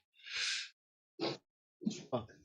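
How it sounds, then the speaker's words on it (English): A single sharp sneeze bursts out close up, followed by a short breath and a quiet vocal sound after a pause. "had to sneeze again"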